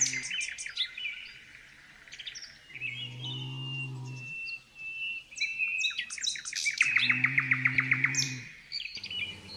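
Birds sing and chirp in rapid high trills and tweets across the whole stretch, while a cow moos twice in long low calls in the middle and near the end.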